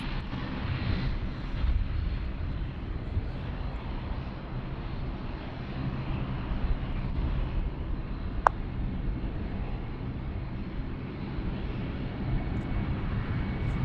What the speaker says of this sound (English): I think now first the Embraer is taking off